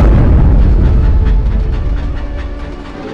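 A train rumbles along the rails with a heavy low roar and faint rhythmic clatter, gradually fading slightly as it passes.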